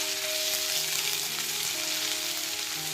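Ginger, garlic and chili paste sizzling in hot oil over browned cumin seeds, a dense, even, rain-like hiss that holds steady throughout with no talking.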